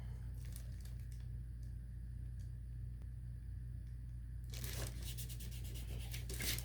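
Masking tape pulled off a roll and pressed down while taping off a painted stacked egg trio with a bunny, with steady crackly tearing and rustling over a low constant hum, getting busier and louder near the end.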